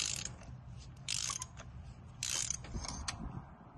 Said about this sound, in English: let us put our socket in here, get a good bite, and release and break it loose